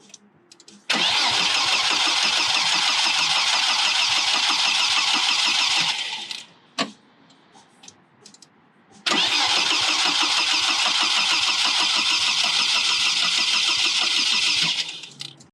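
The engine of a Titan CQ build cranks over on its starter in two long, loud, whirring bursts of about five seconds each, separated by a short quiet pause, without clearly catching and running.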